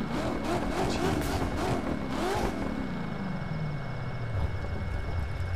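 A Corvette C7 ZR1 engine in The Crew 2 racing game revs hard, then drops into a falling drone as the throttle eases, loud and steady throughout.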